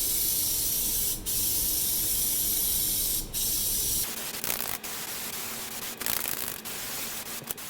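A spray gun lays a black coating onto Jeep parts: a steady, loud continuous hiss that stops briefly twice, then turns into shorter, uneven spurts of spray, with no talking.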